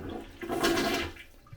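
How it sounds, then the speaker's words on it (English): Hotel toilet flushing after its handle is pressed once, a brief close rush of water that swells and then tapers off quickly. "if you just press the handle down once"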